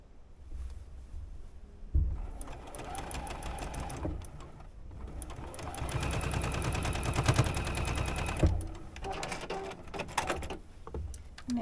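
A sewing machine stitches a quarter-inch seam for a quilt block, a fast, steady mechanical rattle running close and loud for several seconds. The run is bracketed by shorter bursts and a few knocks as the fabric is guided, with no talk.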